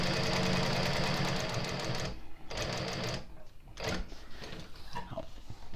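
A sewing machine runs steadily as it bastes fabric near the raw edge of a slip pocket with decorative trim, a loud continuous mechanical whir for about two seconds, then stopping and restarting with shorter bursts and handling clicks.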